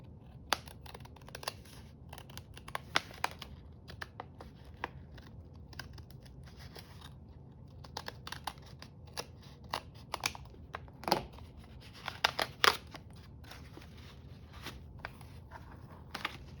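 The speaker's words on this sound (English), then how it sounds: "Let's just cut on the threads." Scissors snip threads in a quiet crafting space, a scattered series of small, crisp clicks and cuts up close, some clustered quickly together, others spaced apart, with no voices.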